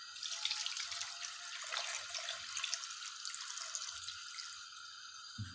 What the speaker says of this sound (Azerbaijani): Və üzərinə bunun su əlavə edirik.